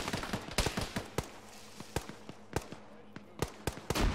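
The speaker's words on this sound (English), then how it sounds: "Tossing nade down the hill." Sharp explosive bangs and gunfire crack in an Arma combat game, a rapid, irregular string of loud, close impacts with a few heavier blasts among them.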